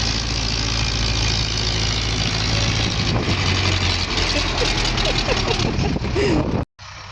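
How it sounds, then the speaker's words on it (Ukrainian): Tractor engines pulling a plough hum loudly and steadily at close range, a continuous heavy drone that cuts off abruptly near the end. "Трактори гудуть."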